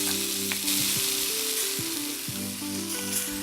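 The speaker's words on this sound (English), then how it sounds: "That sizzle means it's browning." Cod fillet sizzling in olive oil in a pan, a steady crackling fry with a few brief stirring or shifting clicks, close and fairly quiet throughout with no talking.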